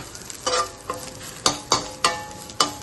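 Curry leaves and chicken fry in a pan, crackling and popping in sharp bursts that come every half second or so, each snap fading quickly into a soft background sizzle, close and with no talk.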